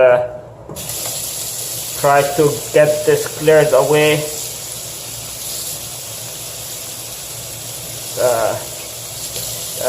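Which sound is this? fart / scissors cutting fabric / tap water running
tap water running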